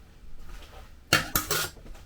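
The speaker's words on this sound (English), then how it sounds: "I'm just stirring through the vanilla bean paste" A spoon clinks against a bowl while stirring vanilla bean paste into meringue mixture, three sharp close taps in quick succession after a quiet stretch.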